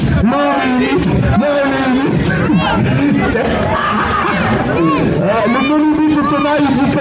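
A crowd at a motorcycle stunt event shouts and cheers loudly and continuously, with voices rising and falling in bursts and people chanting together.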